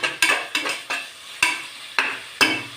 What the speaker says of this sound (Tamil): இஞ்சி பூண்டு பேஸ்ட்டு போட்டு அந்த பச்சை வாசம் போகிற அளவுக்கு நல்லா கொஞ்சம் வணக்கி விட்டுருங்க.